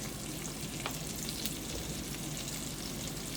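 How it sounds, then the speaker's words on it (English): Potatoes and onions fry in a pan with a steady, dense sizzle that holds an even level throughout, close and unbroken, with faint stirring scrapes underneath. "the onions are cooking. Here goes the potatoes"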